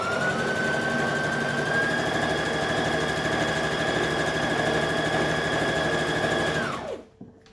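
Sewing machine stitching fabric, a loud, close, steady high-speed whir with an even pitch that runs unbroken for nearly seven seconds, then winds down and stops abruptly.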